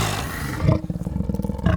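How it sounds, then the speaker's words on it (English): A series of leopard snarls and growling roars from a sound effects file, close and aggressive, starting with a sustained snarl and breaking into rapid rhythmic grunting pulses, with no talk. "a file of random leopard snarls"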